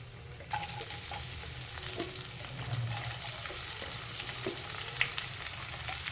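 Onions fry in a pan for chicken uppukari, giving a continuous, moderate sizzle with scattered stirring clicks and a faint watery hiss, and no talking.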